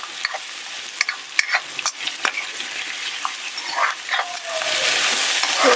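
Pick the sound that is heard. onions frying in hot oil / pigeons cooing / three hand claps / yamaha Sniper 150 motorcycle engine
onions frying in hot oil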